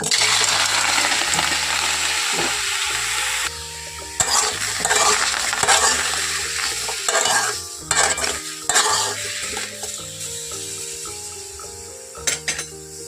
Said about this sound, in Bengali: এখন আমার কড়াইটা গরম হয়ে গেছে আর আমি এর মধ্যে দিয়ে দেব টমেটোগুলো